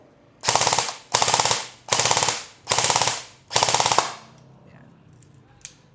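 An airsoft gun with a competition flat trigger fires five loud, close bursts on full auto, each a rapid rattling string separated by short pauses, ending with a single faint click.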